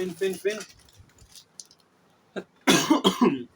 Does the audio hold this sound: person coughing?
yes